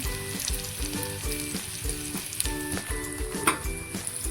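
Tomato and cabbage sautéing in a pan, a steady bright sizzle with rhythmic scraping strokes of a spatula repeating about twice a second, close and moderately loud.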